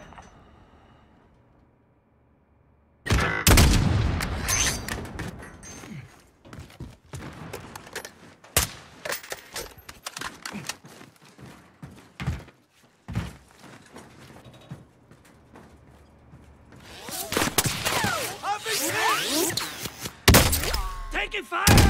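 Gunfire in a battle royale video game: after a quiet start, sharp shots and heavy impacts erupt in loud bursts, thinning out midway, then a dense close volley near the end.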